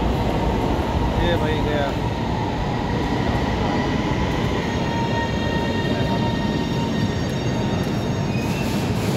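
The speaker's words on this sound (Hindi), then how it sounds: "आ रहा है ट्रेन" A Lahore metro train pulls in and rolls past the platform, a steady loud rumble with faint wheel squeal and high whining tones that holds for the whole stretch while someone talks over it.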